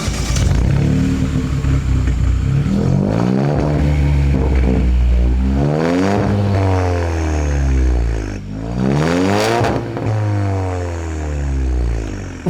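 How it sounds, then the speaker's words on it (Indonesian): Turbocharged Hyundai Creta N-Line with a full-system aftermarket exhaust revving loudly and close by, with repeated rising and falling sweeps as the engine climbs and drops, two sharp blips near the middle and end, and no talking. "Dan akhirnya karena sudah diganti full system, knalpotnya bersuara kan teman-teman ya."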